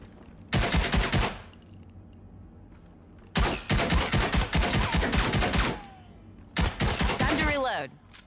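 Rapid automatic gunfire in the video game Rogue Company, fired at targets in three sustained bursts separated by short pauses, loud and close, with a faint voice in the gaps.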